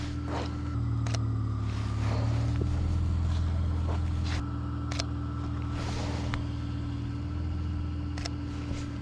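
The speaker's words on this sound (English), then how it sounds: "Another car is coming." A car approaches and passes on an open road, its engine and tyre rumble swelling and fading under steady wind noise, with no talking.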